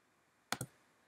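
Two quick, crisp clicks of a computer mouse in close succession, heard close and alone in a quiet room.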